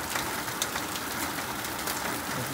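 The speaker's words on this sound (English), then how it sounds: "Over 15 hours of rain and it does not stop." Heavy, relentless rain from a storm in Mexico on the Mazatlan to Durango route, a dense continuous hiss of drops pounding surfaces close by, with no voices.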